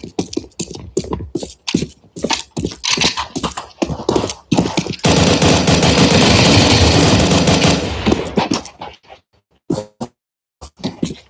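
Counter-Strike 2 gunfire during a competitive match: a string of sharp rifle shots and bursts, then a long dense automatic stream in the middle, followed by scattered single shots, loud and close.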